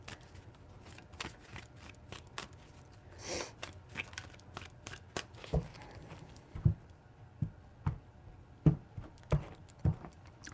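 Tarot cards are shuffled by hand, soft papery riffles and taps scattered through the clip, faint and close, with a few sharper slaps toward the end.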